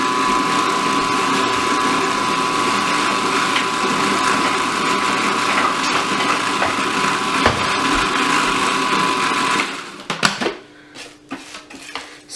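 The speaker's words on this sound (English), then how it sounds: "you're gonna use the food processor to mix this up" A food processor blends garbanzo beans with white sugar, a continuous loud mechanical whir with rattling for about ten seconds before stopping abruptly, followed by a few scattered clunks and scrapes.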